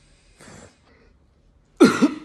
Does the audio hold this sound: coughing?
yes